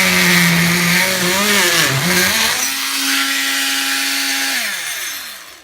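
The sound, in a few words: multi-tool cutting out a shovel and rake rack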